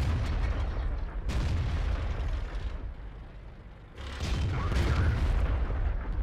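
Tank cannon fire in a video game, including a Panther and an A44, with two heavy booming blasts and rumbling roars that swell, dip, then return, and no talking.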